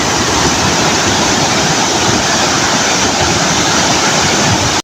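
Muddy, swollen water rushing through Calinawan Cave, a dense, loud, unbroken roar of flowing water close by, filling the whole stretch with no voices.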